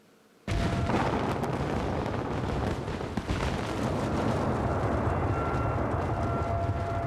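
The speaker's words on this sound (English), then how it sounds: "In just one explosion, 200 tons of rock are blasted from the hills." Mine blasting explosion in rock hills at a gold mine, a sudden loud blast onset that holds as a dense sustained roar and rumble of falling rock for several seconds.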